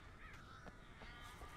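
Crows caw in a dark stretch of the Alan Wake video game, a few harsh calls rising over a steady, hissing ambient bed.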